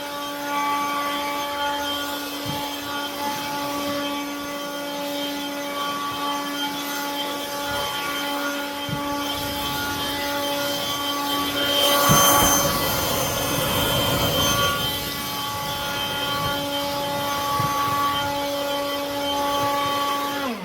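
A Ryobi Whisper Series 18-volt cordless blower rated at 420 CFM runs continuously up close with a steady whine and rushing air, swelling briefly louder midway, no talk over it.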